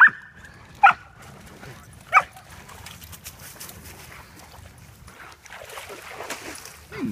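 Dogs at a lakeside cove during a summer morning walk give a few sharp, close yips and barks early on, followed by softer whimpering and faint voices in the background.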